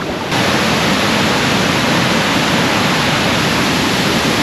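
Tad Kuang Si waterfall near Luang Prabang roars in a loud, unbroken broadband rush of falling water, heard up close and steady throughout with no voices.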